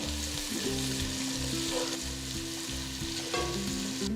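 Two thinly sliced onions sizzle and crackle steadily in hot oil with fried spices, a constant frying hiss with soft background music playing underneath.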